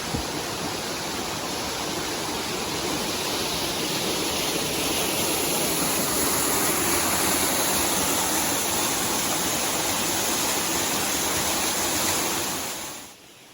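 River water rushing over rocks makes a loud, steady broadband roar close by, unbroken for over twelve seconds before cutting off abruptly at the end.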